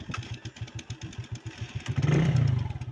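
A motorcycle engine cranks over with its electric starter in a steady rapid rhythm, then catches and rises into a louder running idle, close by with no talk.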